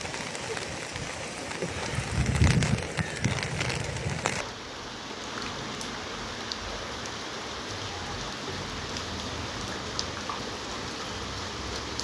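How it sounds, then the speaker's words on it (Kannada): Dense, steady monsoon rain pours down in Shivamogga district, a continuous hiss of drops hammering surfaces, with a louder patter near the start before it evens out. "ತೀರ್ಥಹಳ್ಳಿ, ಹೊಸನಗರ, ಸಾಗರ ಭಾಗದಲ್ಲಿ ಭಾರೀ ಮಳೆ ಆಗ್ತಾ ಇದೆ"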